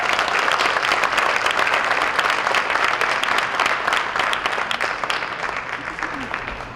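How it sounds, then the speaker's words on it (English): Audience at a Hall of Fame ceremony gives a warm round of applause, steady dense clapping that fills the room and slowly tapers toward the end. "Please give all three of our partners a warm round of applause."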